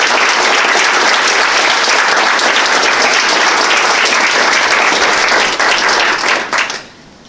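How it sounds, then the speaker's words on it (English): A campus audience at a creative writing and art contest gives winners a loud, dense round of applause, continuous clapping that holds strong before tapering off and fading out near the end. "a big round of applause to you"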